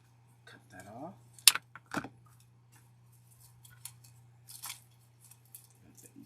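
Scissors snip through a door hanger wreath decoration up close, a couple of sharp cuts with light handling rustle and a steady low hum underneath.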